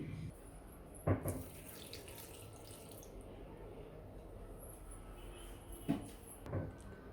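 Water, about one and a half glasses, poured into a pressure cooker holding mango seeds and salt, a steady faint running splash with two brief louder clinks near the start and end.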